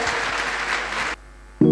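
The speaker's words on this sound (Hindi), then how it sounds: "एक जोरदार तालियां आप होने चाहिए आप सभी के डिसीजन के लिए।" Crowd applause at a business seminar, a dense burst of clapping that cuts off abruptly after about a second, followed by a short loud sound at the end.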